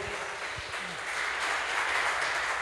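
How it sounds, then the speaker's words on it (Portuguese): Church audience applauding during a worship service, a steady broadband wash of clapping that swells slightly toward the end, heard alone without talk. "Dê um aplauso"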